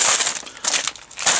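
Crinkling plastic and rustling, in bursts with brief pauses, as new and old Suzuki TS200R motorcycle parts are shaken out of a bag onto a table close up.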